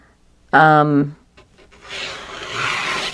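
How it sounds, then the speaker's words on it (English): Scissors cut paper strips for a dinosaur-themed mini album, a close papery rasp trailing off after a brief spoken phrase, with the snipping and rustling continuing to the end. "I'm going to cut the strip off, and then I'm going to cut these strips"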